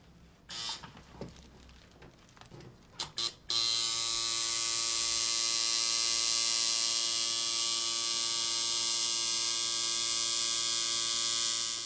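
A tattoo machine buzzes steadily and closely as its needle runs a straight line, a constant electric whine starting after a few soft handling clicks and holding unbroken to the end.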